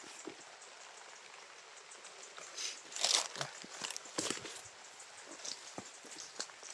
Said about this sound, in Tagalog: Ulan siguro to.